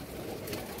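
Red-eyed pigeons give a brief soft coo, a single low murmuring call, faint and close.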